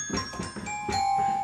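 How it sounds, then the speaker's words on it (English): Glockenspiel tones played on a keyboard, a few bright, high bell-like struck notes ringing out with sustained decay, clear and alone. "the Glockenspiel is it's kind of like a xylophone, and it's just a very high-pitched bell that you hit with a stick."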